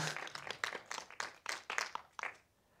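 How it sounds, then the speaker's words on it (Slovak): An audience applauding after a lecture, a steady patter of many hands clapping at moderate distance that thins out and fades at the end. "Ďakujem za potlesk."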